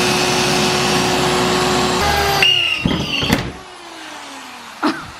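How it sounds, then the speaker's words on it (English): A drill bores holes into the body of a Nissan 350Z, a loud steady motor whine that cuts off after about two seconds, followed by clanks, metallic scrapes and a short final burst. "I'm about to drill some holes into this car."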